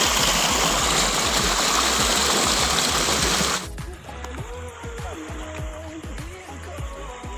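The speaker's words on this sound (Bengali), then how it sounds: "ছোট্ট ঝর্ণা" A small waterfall on a rocky hill stream near a dam rushes loudly and continuously for a few seconds, then gives way to a quieter, gurgling trickle of flowing water.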